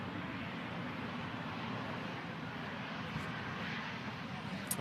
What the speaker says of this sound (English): Aircraft was getting blown all over the place.